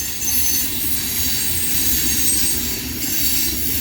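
A CSX mixed freight train rolls past at night, loud and steady, with continuous wheel rumble and a high metallic squeal from the rail cars and no voices.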